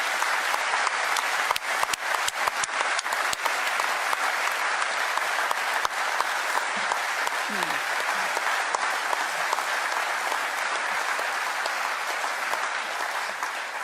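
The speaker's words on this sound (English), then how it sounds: "So could I ask for a huge round of applause to all of the McGuinness clan?" A large crowd gives a sustained round of applause for the McGuinness family, with dense, steady clapping that stays loud and even for about fourteen seconds and no voices over it.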